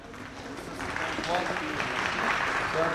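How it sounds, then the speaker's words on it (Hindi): An audience claps at the inauguration session of a holistic therapies conference, the applause building into a steady, dense round that continues throughout, with a voice speaking over it. "तालियां बजती रहनी चाहिए, आपकी तालियों से बहुत ही मोटिवेशन मिलता है"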